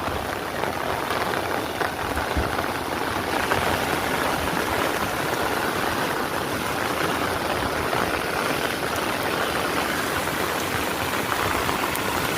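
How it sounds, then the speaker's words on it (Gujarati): Floodwater rushes across a farm field and its crossing, a loud, unbroken roar that sounds close and goes on without any talking. "હબાટી બોલાવે છે પાણી જોઈ લો"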